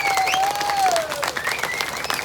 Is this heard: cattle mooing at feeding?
no